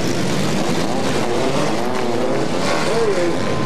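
Mini stock race cars at Atomic Motor Speedway roar steadily past in a loud, continuous engine drone with shifting pitch, while an announcer talks over the noise.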